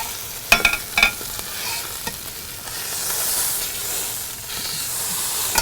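Steady sizzling of meat frying in a hot pan, with a few clinks of a utensil near the start and a continuous hiss building.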